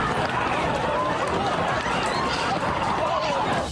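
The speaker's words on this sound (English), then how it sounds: "Loud noises spooking a crowd at a concert, sending people frantically running from the Amway Center" Concert crowd fleeing in panic from the Amway Center in downtown Orlando, a dense continuous roar of running feet and babbling voices, loud and close throughout.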